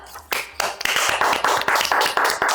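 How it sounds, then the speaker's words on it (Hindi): Audience at a Hindi kavi sammelan (poetry gathering) in a hall clapping to welcome a poet: loud, near, rhythmic bursts of clapping in a steady beat, with no speech. "जोरदार तालियों के साथ स्वागत कीजिए"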